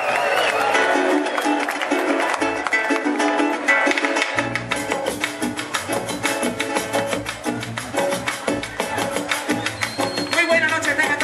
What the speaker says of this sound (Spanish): Fuerte el aplauso para la gaita,